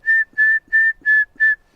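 Five short, evenly spaced whistle blasts sound loud and close in quick succession, a shrill steady tone signalling radios to be switched on.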